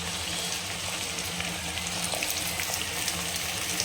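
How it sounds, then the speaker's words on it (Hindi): Badi frying in oil in a pan for a bhog offering, giving a steady, dense sizzle with crackling pops, close and continuous throughout. "अब इसमें चलिए बोड़ों को भी डाल देते हैं, दोनों को साथ में मिला करके हम फ्राई करेंगे।"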